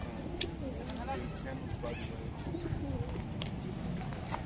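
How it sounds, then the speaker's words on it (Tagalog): A large flock of pigeons in Otaru, Hokkaido, cooing in low, repeated throaty calls close by, with a few higher chirps and people talking over the birds. "Ayan, napakaraming kalapati."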